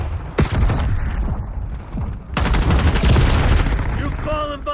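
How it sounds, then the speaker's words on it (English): In a video game firefight, loud bangs and bursts of gunfire crack out close by, with a big blast midway followed by rattling shots and a high ringing tone near the end, and voices are heard. "Flashbang! Flashbang incoming!"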